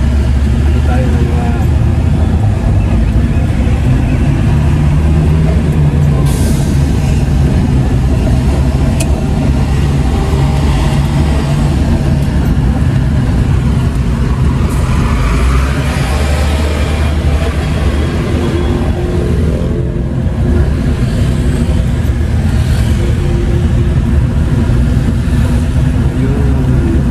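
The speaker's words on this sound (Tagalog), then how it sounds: "traffic na po to. Napaka-traffic na dito." Heavy road traffic in Paknaan rolls past nearby, with cars and engines droning and revving continuously over a dense rumble, occasional louder passes standing out across a long stretch.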